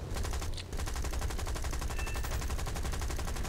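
Rapid machine-gun fire in War Thunder, with an aircraft emptying its rounds into an enemy plane, heard as a steady, loud, evenly spaced stream of shots over an engine drone and carrying on without a break.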